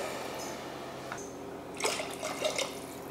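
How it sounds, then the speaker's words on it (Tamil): Water pours into a bowl of soaked biryani rice, a quiet trickle followed by a short burst of splashing and gurgling that lasts about a second. "இதில் தான் தண்ணி சேர்க்குறேன்"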